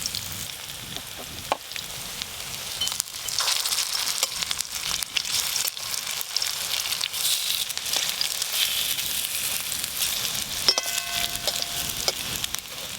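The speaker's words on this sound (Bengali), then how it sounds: "এই বড়াগুলো কম আছে, একটু সময় নিয়ে ভাজতে হবে, তবে ভেতর পর্যন্ত ভালো করে ভাজা হবে" Bottle gourd leaf fritters deep-fry in hot oil, giving a steady, close hiss and crackle that runs throughout, with a few sharper pops and a brief faint ringing tone near the end.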